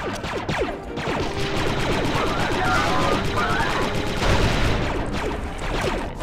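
Blaster gunfire from the Star Wars Republic Commando Delta Squad game comes in dense, loud overlapping volleys with a crash, set against busy game effects and a voice talking.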